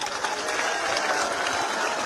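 A crowd claps continuously and densely in a sustained burst of applause from an audience at a statue unveiling speech in Rajasthan.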